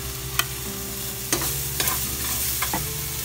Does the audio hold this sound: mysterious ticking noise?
no